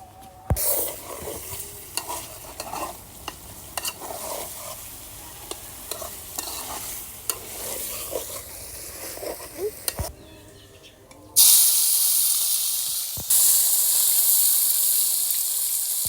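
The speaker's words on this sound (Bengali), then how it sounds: "মাংসটাকে আমি আগে একটু হালকা করে কষিয়ে নেব কষার পর আমি এটা ভেজে নেবো" Chicken meat braising and frying in a pan, with steady sizzling and repeated stirring scrapes for about ten seconds, then a brief pause and a louder, harsher hiss of frying that carries on to the end.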